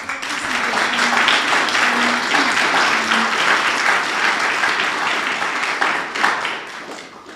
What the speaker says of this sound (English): Let's give her applause for her presentation.